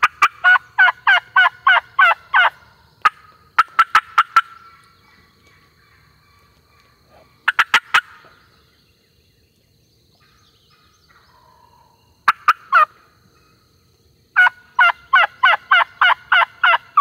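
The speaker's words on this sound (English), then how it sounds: "That turkey's moving. Turkeys being turkeys." Wild turkey gobbling on opening day of a south Alabama spring hunt, repeated rattling gobbles in bursts, fairly near and loud, with quiet gaps between calls and no talk.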